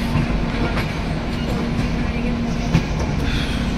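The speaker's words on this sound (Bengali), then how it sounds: "7:59 ট্রেন ছেড়ে দিয়েছে" Onboard the Sealdah–Puri Duronto Express passenger train, a constant loud rumble of rolling on rails carries faint rhythmic clicks of the wheels over the joints.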